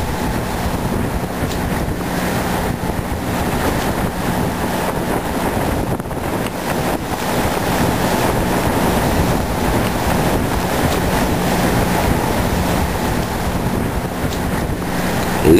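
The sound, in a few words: strong stormy wind and waves at sea, sailing yacht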